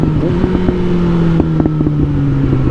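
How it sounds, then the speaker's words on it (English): Suzuki GSX-S 750 motorcycle exhaust rumbling steadily at a fast idle, with a few sharp throttle blips riding over the drone, close to the microphone and loud, with no talking. "Can we just appreciate this exhaust for 1 second?"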